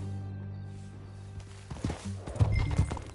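Hooves of a horse in Red Dead Redemption 2 clip-clop near and loud in the last second and a half, following a quieter low ambient stretch.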